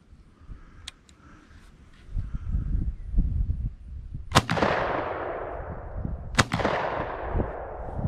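An over-and-under shotgun fires two loud, sharp blasts about two seconds apart during pattern testing outdoors, and each shot leaves a long rolling echo. Faint handling clicks come before the shots.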